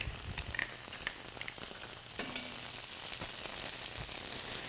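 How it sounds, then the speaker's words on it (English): A tenderloin roast sears in bubbling butter in a pan, a soft, continuous sizzle and crackle with a brief clatter partway through. "We're going to take our filet mignon, or tenderloin roast, and we're going to put a little more butter in there."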